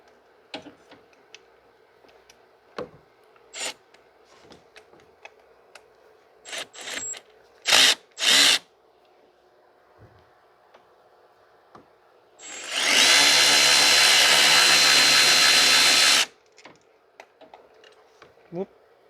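A power tool works on 8 mm bolts on the engine of a 2006 Mazda 3 2.3 during a coolant water outlet housing replacement. Scattered small clicks and taps lead into one loud, steady, whirring run of about three and a half seconds, close by.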